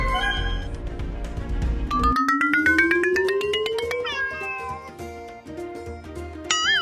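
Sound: cat meowing

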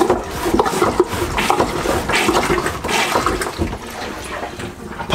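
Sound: marine toilet pumping water out

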